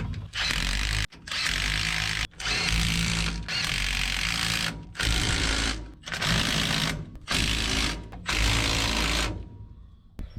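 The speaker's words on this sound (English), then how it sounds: "let's cram them home with the 3/8 Milwaukee impact" A 3/8-inch Milwaukee impact wrench drives bolts on a 1971 Ford F100 4x4 during differential and driveshaft work, with about eight loud, close hammering bursts, each roughly a second long and separated by brief pauses.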